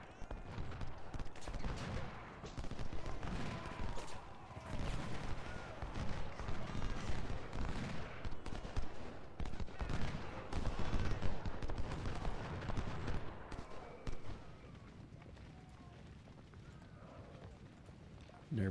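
Revolver gunfire in Ultimate General, a Union battle, crackling as a dense, distant fusillade of rapid shots under a steady thunder of hooves, with someone talking over the din.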